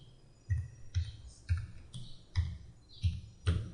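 Keys on a computer keyboard clicking in a steady run of about eight distinct presses, close and fairly quiet, while a birthplace is typed into an online passport application form, with no talk.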